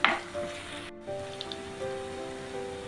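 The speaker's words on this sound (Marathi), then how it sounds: "त्याच्यामध्ये आपण अर्धा चमचा आलं लसूण पेस्ट टाकून घेऊया आणि ती पण तेलामध्ये भाजून घ्यायची आहे" Ginger garlic paste fries in oil with onion for a Malvani country chicken dish, giving a steady close sizzle with a few stirring clinks and a brief dropout early on.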